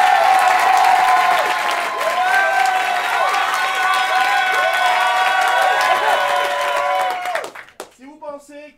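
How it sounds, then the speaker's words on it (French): Loud, sustained applause and cheering from the audience at an improv theatre match in Paris, filling about seven seconds with dense clapping, whoops and chatter before cutting off abruptly; a voice then speaks over the quieter room. "Si vous pensez que Omar mérite le titre de maestro de ce soir, applaudissez maintenant."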